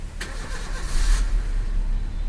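Close-up engine start of a Maruti Suzuki Ritz car using its second coded key: a brief crank burst followed by a steady low idle rumble, no voices.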